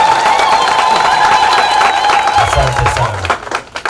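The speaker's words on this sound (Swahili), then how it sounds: "Hayo makofi naomba yaongezeke." Crowd applause at a Pentecost festival, a dense steady clapping close by that tapers off toward the end while someone speaks briefly over it.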